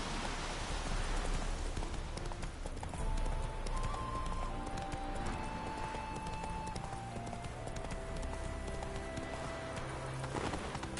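A horse gallops in The Witcher 3: Wild Hunt, its rapid rhythmic hoofbeats pounding steadily and close throughout, mixed with a rain-like patter of game ambience and no talk.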